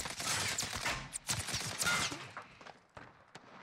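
Sniper rifle fire in the Warzone video game: a few sharp, loud gunshot cracks separated by short gaps amid game noise, fading toward the end.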